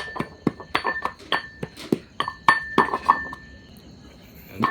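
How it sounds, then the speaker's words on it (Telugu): Garlic pounded with coriander powder in a mortar for an egg tomato curry, giving a run of sharp, close knocks and clinks at an uneven rhythm with no talking. "ఇప్పుడు ఈ ధనియా పౌడర్లోకి ఎల్లిపాయలు వేసి లైట్గా ఇలా పేస్ట్ చేసుకోవాలి."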